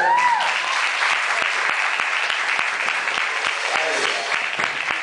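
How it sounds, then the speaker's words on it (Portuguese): Church congregation applauding during a sermon, a full, continuous burst of many hands clapping close and fairly loud, with a voice briefly calling out over the start and again near the end. "Pode aplaudir ao Senhor."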